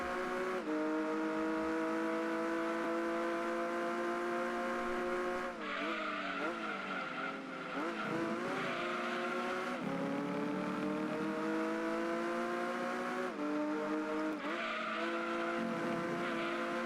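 Racing cars in Gran Turismo 2 chase a GT40, with sustained, loud engine drones rising and falling in pitch through gear changes, interrupted by brief tire squeals and skids, no talk.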